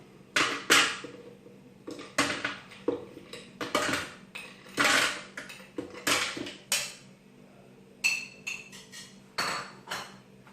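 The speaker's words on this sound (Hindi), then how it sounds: "उसके बाद मैं ये बर्फ ऐड कर दूंगी।" Ice cubes clatter into a glass or pot for a strawberry mojito in a home kitchen, a series of sharp, irregular clinks and knocks, close and fairly loud, with short pauses between bursts and no talking.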